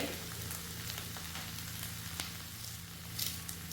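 Potatoes roast in a hot pan with curry leaves, a steady close sizzle and crackle running throughout with a few sharper pops.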